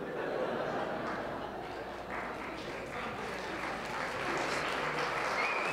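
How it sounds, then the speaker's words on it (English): An audience at an astronomy lecture applauds, a dense, steady wash of many hands clapping that continues unbroken for several seconds at moderate volume, with faint crowd murmur beneath. "I don't know why you're clapping."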